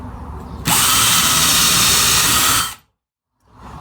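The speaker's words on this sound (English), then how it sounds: "I'm going to take a drill and drill some holes through here." A power drill whirs loudly at steady high speed for about two seconds drilling holes through wood, then stops abruptly, leaving a brief silence before faint room noise returns.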